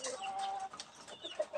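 Soft, close clucking from a brooding hen sitting on eggs, a few low murmuring calls in quick succession over a quiet background.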